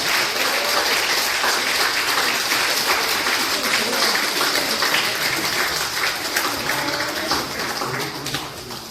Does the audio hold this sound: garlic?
no